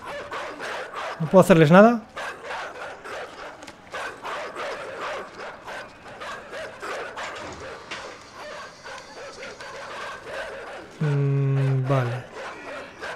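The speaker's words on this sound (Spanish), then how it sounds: "Perros, ¿en serio?" Dogs barking in the video game INSIDE, a loud burst of yelping barks early on and a later stretch of barking, heard under someone talking casually in Spanish throughout.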